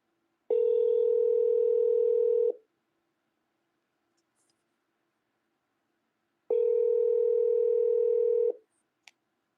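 A telephone line gives two long steady tones, each about two seconds, separated by a silent gap as the call fails to connect, clear and close with no talking.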